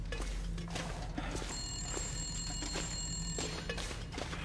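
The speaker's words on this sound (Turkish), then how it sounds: "Telefon çalıyor." A telephone rings in The Long Dark video game, with repeated bell-like tones over a steady low game hum and ambient noise throughout, no voices.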